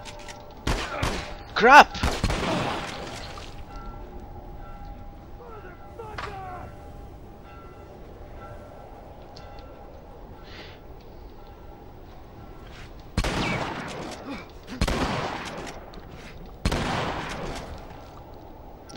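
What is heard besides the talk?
gunfire in the video game The Last of Us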